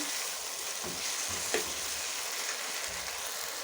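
Spice paste fried on medium-low heat for spinach and paneer, a soft continuous sizzle with an occasional spoon scrape, one sharp tap near the middle, close and fairly quiet.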